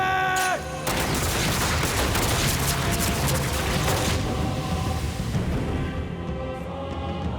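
A dense, loud volley of gunfire in the Attack on Titan anime bursts in after a brief moment and roars on as a continuous crackling barrage, thinning slightly toward the end.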